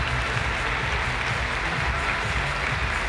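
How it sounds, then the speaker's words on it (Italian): A crowd applauds two athletes after a fighting-sport bout, a continuous even wash of clapping from many hands, moderately loud and unbroken for the whole moment. "Bell'applauso"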